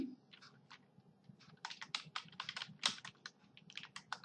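Quiet, rapid clicking of computer keys while code is typed, irregular bursts of keystrokes that grow busier in the second half, close to the microphone with no voices.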